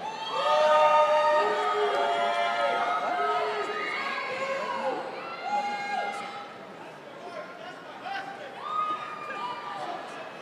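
A crowd at a Rhode Island College commencement ceremony cheering, whooping and applauding for master's graduates, loud at first and then easing off with scattered shouts.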